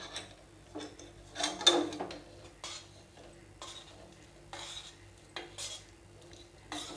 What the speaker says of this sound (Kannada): ಇದನ್ನು ಪೂರ್ತಿ ಇದ್ರೊಳಗೆ ಕೂಡ್ಕೋಬೇಕು, ಆ ರೀತಿ ಮಿಕ್ಸ್ ಮಾಡ್ಕೊಳ್ಳೋಣ ಇದನ್ನು